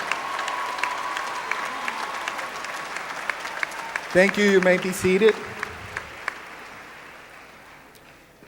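Applause at a college graduation ceremony at Miami-Dade College North Campus in 2004, a large hall crowd clapping steadily and then fading out, with someone speaking over the last of it.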